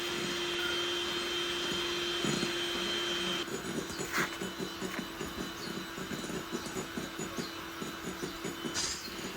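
An electric mixer whips egg whites with a pinch of salt as sugar is gradually added, giving a loud, steady motor whine that turns into a rapid pulsing churn partway through, with no talking.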